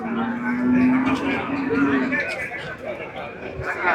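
At a busy cattle market in Vellore district, a cow gives a long low moo and then a second one, heard over constant crowd chatter and people talking nearby.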